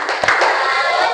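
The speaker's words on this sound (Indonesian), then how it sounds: "kita beri tepuk salut kelompok Sania" Students in a classroom clapping for a presenting group, a brief sharp clap leading into a dense, continuous round of applause, fairly loud and close.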